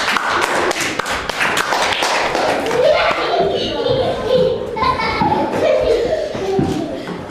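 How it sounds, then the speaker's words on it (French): A church congregation claps for the Lord in quick rhythmic bursts, loud and close at first, then fading under overlapping voices as people talk and call out. "Let's clap for the Lord Jesus Christ."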